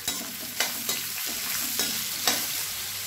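Steady sizzle of two large sliced onions frying in a pan for a Tamil thokku, with a few sharp scraping clinks of a spoon stirring at intervals.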